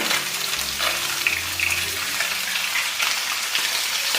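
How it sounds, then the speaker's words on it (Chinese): Fish frying in hot oil in a wok previously used to fry ginger, scallion and garlic, a dense continuous hiss of sizzling oil, close and fairly loud, with faint low rumbles underneath and no talk. "爆过姜、葱、蒜的油再来煎鱼，它也不会粘锅"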